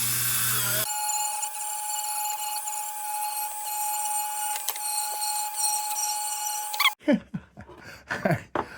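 A Dremel rotary tool runs with a loud, steady high-pitched whine for about six seconds, then cuts off abruptly and is followed by a few scattered rustling noises.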